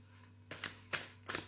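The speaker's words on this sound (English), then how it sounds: "let's keep shuffling" A deck of cards is shuffled in three quick riffling bursts, each a short papery flutter with brief pauses between, close and fairly quiet over a steady low hum.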